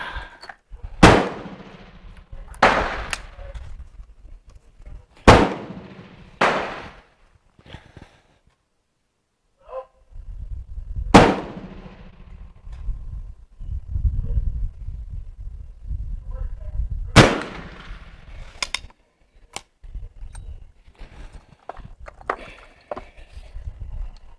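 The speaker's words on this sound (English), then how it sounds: "It's fun shooting when everything goes good, except for my stupid camera." Shots from a Rolling Block Danish 11.7 caliber rifle: several loud, sharp reports, some followed by echoing tails, spread irregularly across a stretch of outdoor background noise with quiet gaps between them.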